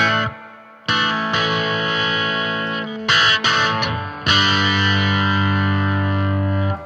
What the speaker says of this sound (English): That crazy reverb on too long.